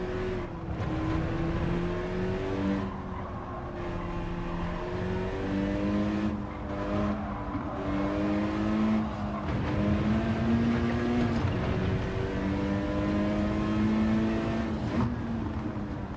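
A race car engine in a no-assist sim racing game revs hard and holds a loud, steady drone, its pitch climbing and dropping through repeated gear shifts. No one talks.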